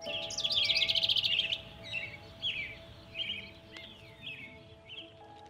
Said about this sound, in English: Today I'm out in the yard filming these North American robins, and they're really fun birds to watch.